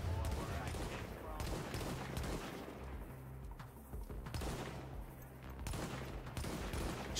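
Dense bursts of automatic gunfire in The Division's survival mode, repeated rapid volleys with brief pauses, fairly close, with players talking over parts of it.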